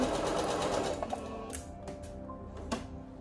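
A sewing machine stitches a seam on a Regency gown along the five-eighths line, running in a steady mechanical whir that slows and stops, with a few soft clicks and taps near the end. No one speaks.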